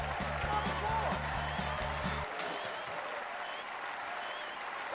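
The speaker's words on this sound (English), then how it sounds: "round of applause for Spoopy in the chat" Applause, likely a crowd sound effect during a late-night hula hoop stream, as a steady wash of clapping that holds throughout, with a low repeating tone underneath for the first two seconds.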